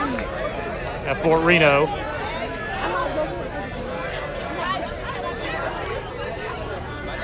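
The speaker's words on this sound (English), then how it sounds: "Got a crowd that has swelled here" Crowd chatter at a high school varsity baseball game between Wilson and St. Albans, a steady murmur of many voices filling the stands, with a close commentator's voice over it.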